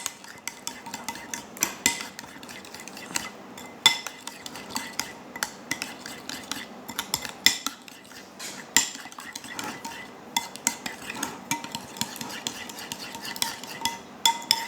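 A spoon stirring vegetable salad with yogurt in a bowl: repeated close clinks and scrapes of cutlery against the dish in an irregular rhythm, fairly faint, with no talk.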